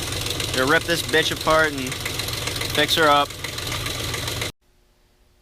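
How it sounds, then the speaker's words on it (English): A BMW 540i engine with broken timing chain guides idling with a steady metallic rattle. Someone talks over it, and the sound cuts off abruptly near the end. "That was the sound of broken timing chain guides."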